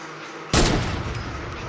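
A single loud sniper rifle shot in a video game cracks out of near silence and leaves a long, noisy rumbling tail.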